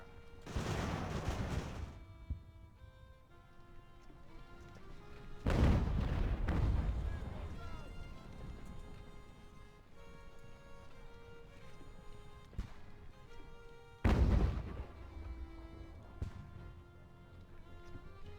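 Sailing ship cannons in the naval battle game Ultimate Admiral: Age of Sail boom out in three heavy volleys, each a loud rolling blast that rumbles and decays over a couple of seconds.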